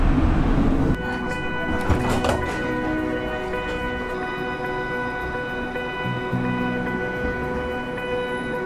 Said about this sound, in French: Il prend son virage comme n'importe quel autre tramway.